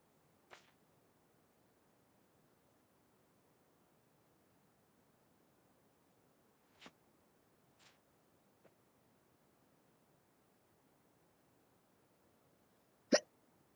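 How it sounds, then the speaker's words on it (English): Four or five sharp, brief hiccups from one person, spaced irregularly across a quiet room, the last one loudest and closest, with faint background hiss and no talking. "I don't know why I have the hiccups today."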